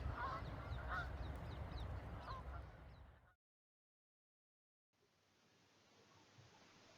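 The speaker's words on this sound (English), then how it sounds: "What's with the geese, eh?" Several geese honk in a loose, overlapping cluster over steady outdoor background noise, fairly close and loud, then the sound cuts out abruptly to silence before a fainter ambient hiss returns.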